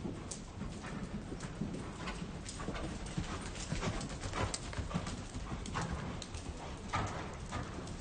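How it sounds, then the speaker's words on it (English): A horse in a steady working canter at a riding clinic, its hoofbeats thudding in a continuous rolling rhythm on the arena footing at moderate distance, with no talk over them. "Stay in that nice working canter we worked up to."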